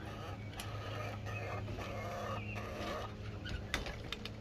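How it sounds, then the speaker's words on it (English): Chickens cluck and squawk faintly in the background, a scattering of short calls over a low steady hum. "And Smalls, one of my big chickens, is yelling at Mama because she wants her scratch for the night."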